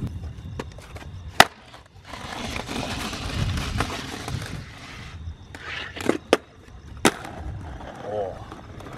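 A skateboard grinds along a waxed ledge at a DIY street spot, giving a rough scraping rumble with sharp wooden clacks and pops as the board lands and locks in, heard up close.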